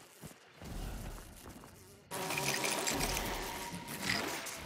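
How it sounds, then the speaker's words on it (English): A hive bomb in Hunt: Showdown releases an insect swarm, a dense buzzing drone that swells louder partway through and holds steady. "I'm throwing the fucking hive. Hive bomb."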